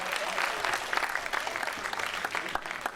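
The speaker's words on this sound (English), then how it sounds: "Let's clap it up if you're feeling good" A crowd at a movie premiere in a Regal cinema breaks into lively, dense clapping with individual sharp claps standing out, some voices faintly mixed in.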